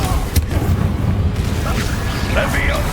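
A Bombarda spell detonates in Hogwarts Legacy, a deep booming blast amid loud battle noise and layered effects, with a voice shouting over the action.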